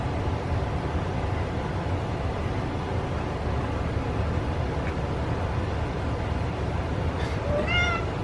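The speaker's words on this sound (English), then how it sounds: "you just heard my cat meow" A cat gives a single short meow near the end, rising then falling, over a steady background hiss.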